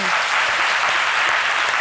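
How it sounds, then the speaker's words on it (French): A studio audience on a French-language TV news set applauds, a steady dense wash of clapping that holds evenly and loudly throughout, with no voices over it. "Ça s'applaudit."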